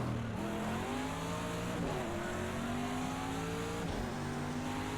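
Race cars in an IMSA racing video game at Texas Motor Speedway, one approaching from behind; steady engine drone with gear-shift pitch steps and rising revs, fairly loud and continuous with no talk.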